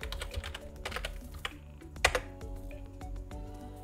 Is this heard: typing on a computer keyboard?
yes